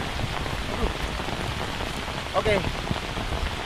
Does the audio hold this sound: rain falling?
yes